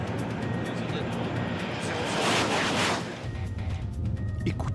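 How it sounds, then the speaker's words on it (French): High-speed train roars past with a dense, rushing broadband noise like a jet airplane, swelling to a peak and then easing, loud and continuous. "Écoutez ce bruit, ce n'est plus celui d'un train, c'est déjà le bruit d'un avion."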